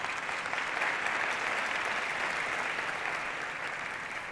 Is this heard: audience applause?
yes